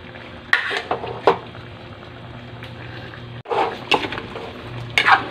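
A utensil stirs and scrapes chicken in a pan with chicken stock, sharp metallic scrapes and clacks coming in irregular bursts over a low simmering bubble, close and fairly loud.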